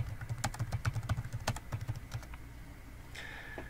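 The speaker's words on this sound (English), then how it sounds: "Go to a web browser and type in download Windows 11." Quick typing on a computer keyboard while entering a web search, a close, rapid run of key clicks for about two seconds that then stops, followed by a faint electronic tone.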